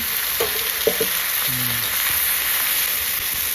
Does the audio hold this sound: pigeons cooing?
no